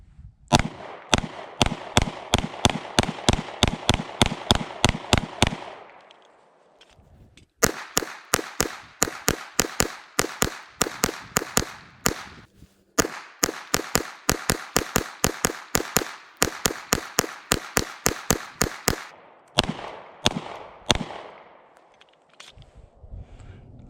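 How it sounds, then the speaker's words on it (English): A Taurus G3 pistol fires long strings of sharp, evenly spaced gunshots at close range, grouped into several rapid volleys with brief pauses between magazines. "Here we go, our first shots with the Taurus"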